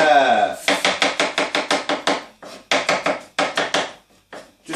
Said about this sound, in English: Just while I'm chopping these mushrooms